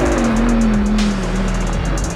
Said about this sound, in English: the moral winner of this race was the sound of those V10 engines